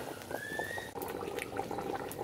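Curry simmering in a pot over an open fire for a long Eid ul-Adha meal, a steady bubbling hiss that runs continuously, with a faint whistling tone and light background clatter.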